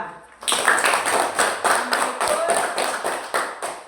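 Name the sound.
applause, clapping for group 2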